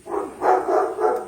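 A human mimic imitates a dog barking, voicing three loud, close yelping barks in quick succession with no other sound.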